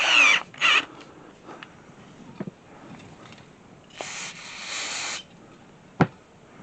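Power drill spinning a Q-tip to clean a motorcycle carburetor, short bursts of whirring spin separated by quiet gaps, with small taps and rubbing, close and fairly faint.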